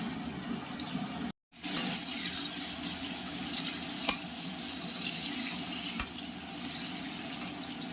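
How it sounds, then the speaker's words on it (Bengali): Potato and green banana pieces fry in oil in a pan for Bengali fish curry, a steady close sizzle with faint stirring scrapes and a couple of light taps. "এবার আমরা আলু আর কাঁচকলা ভেজে নেব।"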